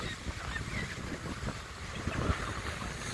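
Wind blows steadily across a microphone at a beach, producing a continuous low rumble and gusty buffeting with faint surf-like wash underneath.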